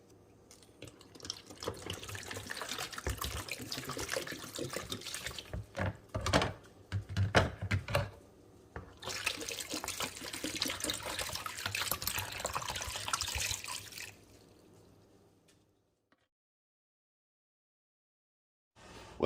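Water pouring steadily into a container to submerge a coyote skull for peroxide whitening, a continuous close splashing rush that pauses briefly, resumes, then stops into silence.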